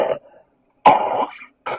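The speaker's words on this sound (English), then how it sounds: "I've got a hell of a cough" A sick person with a heavy cough gives three close, harsh coughing bursts: a short one, a longer rasping one, then another short one, with brief silences between.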